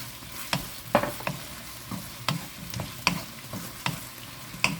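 Garlic fries in a pan over medium heat, a soft hiss punctuated by repeated sharp clicks and taps of stirring utensils, close up with no voices.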